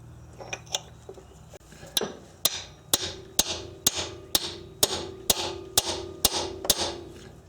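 A hammer strikes a long chisel wedged against a stuck vehicle axle, about a dozen sharp metallic clanks in a steady rhythm roughly twice a second, close and ringing, with a few lighter taps first.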